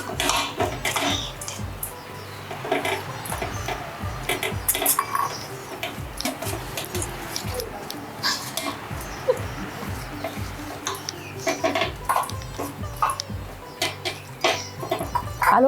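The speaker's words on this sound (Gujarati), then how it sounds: "આ લોટ આપણે રોટલી જેવો બાંધવાનો છે." Flour dough for quesadillas being mixed and kneaded by hand in a bowl with three spoons of oil, soft squelching and patting with occasional light clinks, close and steady without talk.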